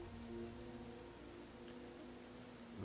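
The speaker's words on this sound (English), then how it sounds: "Got a little rain here." Steady, faint rain hiss in the strategy game Total War: Attila, a continuous soft wash of falling drops with no voices over it.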